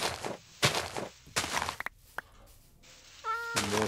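A cat meows a few times in the video game Fear the Shadows, with a tonal, slightly synthetic quality, amid footsteps, soft thumps and short bursts of other game sounds.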